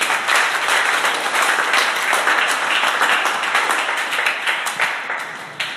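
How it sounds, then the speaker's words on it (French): A church congregation applauding Jesus, a dense, steady wave of many hands clapping at once, loud and sustained before tapering slightly at the end. "Est-ce qu'on peut acclamer Jésus bien?"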